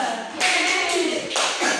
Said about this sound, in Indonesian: Tepuk tangan dulu dong untuk kelompok 2.